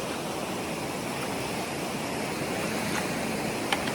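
A creek flows and splashes over rocks in rugged wilderness terrain, a steady close rushing wash of water with no pauses, holding constant loudness throughout and with no voices.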